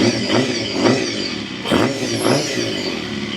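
Honda CBR250RR MC22 motorcycle engine running after restoration, a steady mid-pitched idle with rhythmic pulsing swells roughly every half second, close and fairly loud with no talking.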